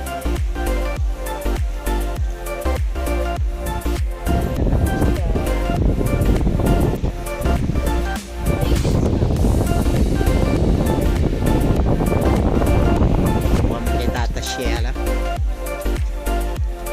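Waves wash onto the shore of a calm sea in a steady, loud broadband rush with wind noise over the microphone and a continuous rhythmic layer on top, lasting the whole stretch without a clear break.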